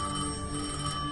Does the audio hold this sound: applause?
no